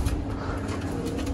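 Pigeons coo steadily and close by, a soft continuous murmur of low, rolling calls with no one speaking.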